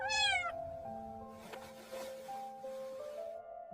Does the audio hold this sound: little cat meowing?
yes